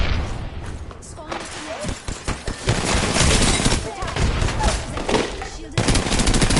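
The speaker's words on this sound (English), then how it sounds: "I'm getting shot at" Gunfire in an online shooter video game: sustained automatic bursts and scattered shots rattle almost continuously, close and loud, while a player talks over them.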